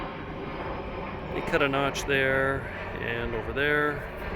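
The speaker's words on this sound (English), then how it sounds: "Excuse the plane." A broad, steady roar of a passing airplane fills the background while someone speaks close by.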